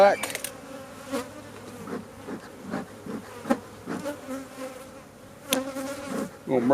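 Honey bees buzz around a hive, close and continuous, with scattered bumps and handling noises.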